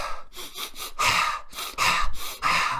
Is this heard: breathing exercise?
yes